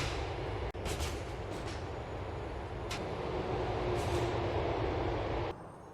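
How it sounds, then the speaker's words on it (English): A subway train running in Grand Theft Auto 4 in a New York–style city, a loud continuous rumble of wheels and carriage noise with a few sharp clacks, steady until it drops away near the end. "You can head into any station, board a train, and ride around until you want to get off."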